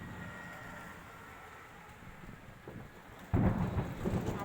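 Thunder rumbles low and steady as a rainstorm begins, followed by a sudden louder crash or burst of rain near the end, with no talking.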